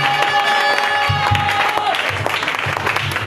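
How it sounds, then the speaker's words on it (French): A church congregation applauds and cheers loudly and continuously for Jesus during a worship service, dense clapping and voices filling the space throughout. "Acclamons très fort le Seigneur Jésus."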